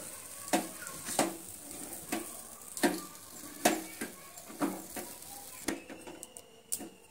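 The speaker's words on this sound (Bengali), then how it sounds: "ঘিটা দিয়ে সুজির সঙ্গে এইভাবে আবারও আমি এইভাবে নেড়েচেড়ে নিচ্ছি" A spoon stirs semolina roasting in ghee in a pan, repeated scraping strokes against the metal in a steady rhythm about every second over a light sizzle, close and fairly loud, with no talking.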